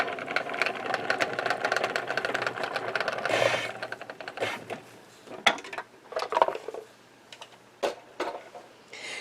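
A kitchen salad spinner whirring in bursts, a steady mechanical rattle then several separate quick spins with pauses between, close and moderately loud, with no talk.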